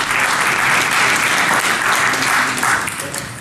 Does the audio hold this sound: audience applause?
yes